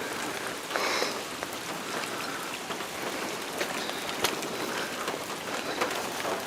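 Rain falls steadily on surfaces outdoors, a dense close hiss with scattered louder drops and splashes, continuous at moderate volume with no talking.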